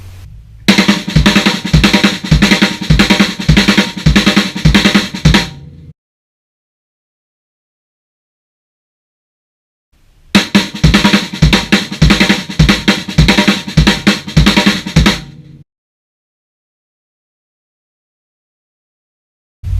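Drum kit plays the accented sticking pattern RLRLLK with quiet ghost notes, two loud fast bursts of steady rapid strokes with kick hits, each about five seconds long and separated by silence.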